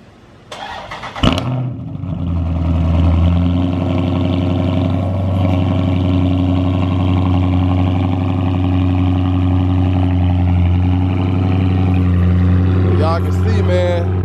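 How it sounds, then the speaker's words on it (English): Dodge Charger with a 392 engine cold-starting: a sharp crank and catch around one second, then a loud, steady, deep idle rumble that holds for the rest of the clip, with a brief burst of talk near the end. "I got to give y'all this cold start."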